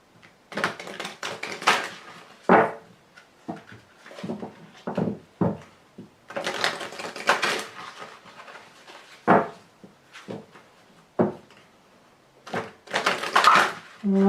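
Large tarot cards being cut and shuffled by hand, a run of close, crisp slaps and riffles in irregular bursts with short pauses between, no talking.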